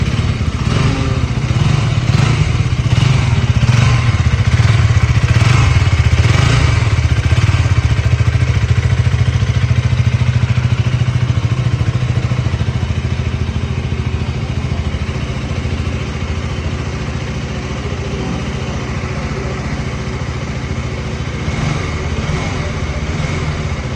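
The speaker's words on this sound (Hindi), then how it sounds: "तो ये थे दोस्तों अपनी दोनों बाइक्स के एग्जॉस्ट साउंड।" Exhaust notes of a Husqvarna Vitpilen 250 and a KTM Duke 200 motorcycle, a steady, loud engine drone with a series of sharp revving pulses early on, then settling into a lower, even idle.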